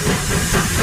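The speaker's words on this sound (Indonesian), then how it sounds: "lihat teman-teman, ada kereta api Thomas." A toy Thomas steam train lets out a short, steady, close-up hiss of steam, loud and continuous for under a second with no voices.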